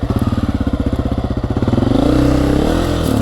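A Honda CRF250F dirt bike engine chugs with a rapid, pulsing beat, then revs up into a louder, smoother, sustained drone as the rider accelerates, close and clear without talk.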